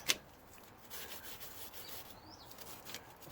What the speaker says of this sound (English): you want to clean around the caliper here. The pipe goes in, a little wire brush.